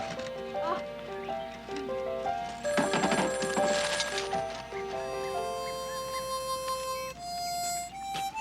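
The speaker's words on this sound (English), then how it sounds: "That was Dr. Ciovica on the phone" A telephone rings with repeated electronic bell tones over a busy music-and-voice backdrop, steady tonal rings running throughout, moderately loud.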